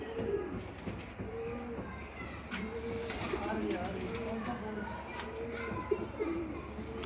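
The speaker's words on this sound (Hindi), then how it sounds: "यह सलारा कबूतर है जी" A Salara pigeon coos in soft, repeated low phrases close by, with people talking over it and faint background rumble.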